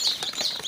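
Soft, high peeping chirps from newly hatched day-old chickens, several quick calls in a short burst, fairly quiet and close.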